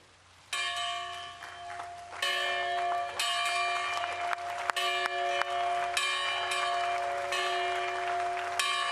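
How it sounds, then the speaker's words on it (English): A large bell rung repeatedly at the opening ceremony of a museum, strong ringing strikes every second or so with long overlapping resonance, a crowd murmuring and clapping faintly beneath. "99-year-old Ruth Bonner, ringing a bell to signal the opening of the museum."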